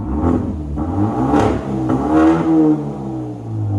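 A 2014 Hyundai Genesis Coupe 2.0L turbo with straight-pipe exhaust, muffler and tips cut off, revs up loudly and deeply, rising and falling in pitch across a few throttle blips, with a rumbling exhaust note throughout.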